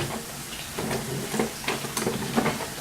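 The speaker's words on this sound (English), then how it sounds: "I'm just going to stir up the onion a little bit so it gets nice and coated all over." Onion stirred in a hot pan with a wooden spoon, a steady sizzle and hiss with irregular scraping and clattering strokes, fairly close and continuous, no talking.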